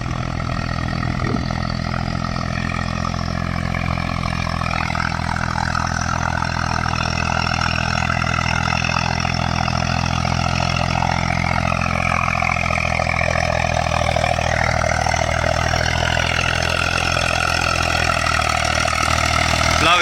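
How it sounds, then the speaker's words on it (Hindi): Eicher 485 45 hp tractor in high first gear at about 2000 RPM pulling a 2 MB plough through a field: a steady, loud, continuous diesel engine drone throughout, with someone talking over it. "ट्रैक्टर चल रहा है हाई के फर्स्ट गियर में 2000 RPM पर"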